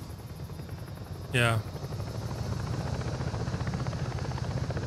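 A helicopter in the tactical shooter game Ghost Recon Breakpoint, a steady pulsing rotor thump throughout, with a brief loud electronic chirp near the start and a voice speaking briefly over it.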